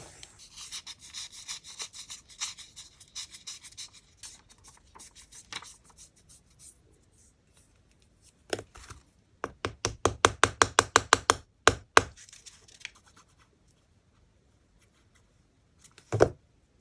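Scissors cut through paper being prepared for handmade paper beads, a quick run of close, crisp snips in a steady rhythm, with a few scattered rustles before and a final snip after a pause.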